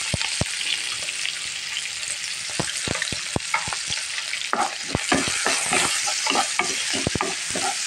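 Taki fish do-peyaja cooking in hot oil with onions, a continuous loud sizzle broken by frequent sharp clacks of a spatula stirring against the pan, close up with no voices.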